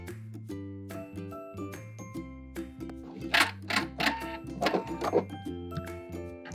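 A sewing machine stitches the center front seam of a bias-cut gown bodice in plaid fabric, its motor humming in steady runs with pauses, and a few clicks and rattles near the machine partway through.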